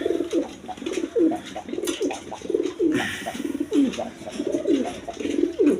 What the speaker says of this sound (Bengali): এই যে দেখেন আমি লাড়া চারা দেখি দেখা দিই কীরকম ডাকা ডাকে দেখেন